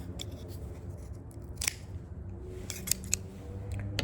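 A cutter makes a straight cut on a Maduro cigar from the 5 Vegas Series A, with a few close, crisp clicks and a sharp snip over a low background hum.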